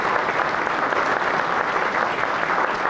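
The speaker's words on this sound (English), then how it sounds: "So please give them both a round of applause." Audience at a district community meeting breaks into steady applause, a dense wash of clapping that holds at an even level throughout.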